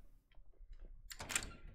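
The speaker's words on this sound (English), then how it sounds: "door open" A door opening in Silent Hill 2 Remake: faint small clicks and creaks lead into a short, louder burst of rattling, latch-like noise near the end, heard alone without talk.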